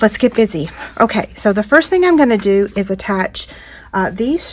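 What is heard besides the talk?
No everyday noise stands out behind the speech.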